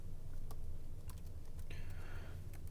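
A command typed on a computer keyboard: a handful of separate, quiet key clicks spread unevenly over a low steady background hum, with no talk.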